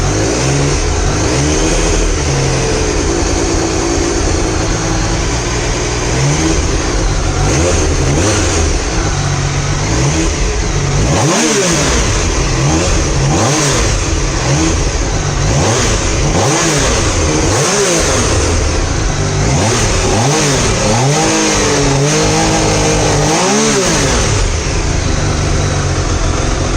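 A Triumph Daytona T595 motorcycle engine runs steadily, then rises and falls through a series of sharp throttle revs in the second half, loud and close with no talking.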